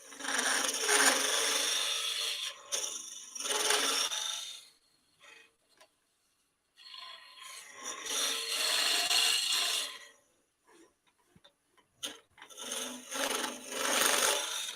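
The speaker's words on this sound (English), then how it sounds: "There it's drilling." Wood being drilled on a woodturning lathe, a bit boring into a spinning workpiece and packing sawdust in the hole: loud scraping, rasping bursts that stop and start several times, alone with no talk.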